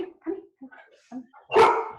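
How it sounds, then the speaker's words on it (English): A large dog, a Labrador, lets out a loud close bark burst near the end, after a run of short quieter yips or voice-like sounds. "Sounds like a big dog."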